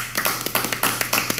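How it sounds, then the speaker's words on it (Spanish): A live audience gives a modest, humble round of applause, a short burst of light, scattered claps at an uneven quick rhythm, close and fairly thin rather than a full ovation. "El número uno es un aplauso humilde, sencillito."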